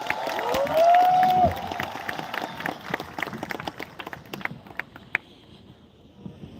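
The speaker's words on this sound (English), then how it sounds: "The clappings that we just did" Crowd at a tribal solidarity protest in New Delhi claps in scattered, uneven bursts after a brief rising vocal tone, the claps thinning and fading toward the end.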